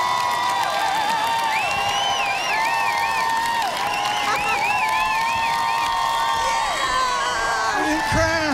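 A lively crowd at a casino show opening cheers, whoops and yells continuously, with shrill voices rising above a dense wall of noise throughout.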